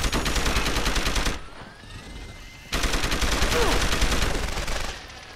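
Sustained machine gun fire in the video game Deus Ex: Human Revolution comes in two long, loud bursts of rapid automatic shots with a short lull of quieter game ambience between them.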